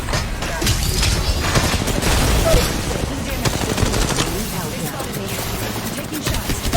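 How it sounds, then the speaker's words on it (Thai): Loud, rapid automatic gunfire bursts from the mobile shooter game Apex Legends Mobile pile up in dense volleys, with a player's voice talking over the shooting. "ข้างบนยิงลงมา"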